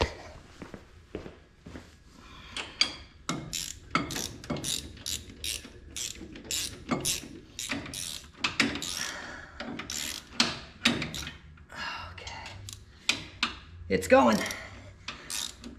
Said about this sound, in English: Let me get a ratchet on there.